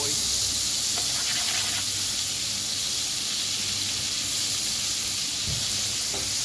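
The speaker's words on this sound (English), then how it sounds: "I'm gonna allow the butter to melt" Butter melting in a pan gives off a steady, dense sizzle and hiss that runs unbroken throughout, fairly close, with occasional faint clinks.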